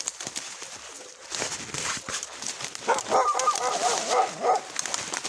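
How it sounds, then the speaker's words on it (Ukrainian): A dog barks repeatedly from a short distance amid outdoor background noise, the barks growing more frequent toward the end. "Ти що такий злий? Ти що гавкаєш?"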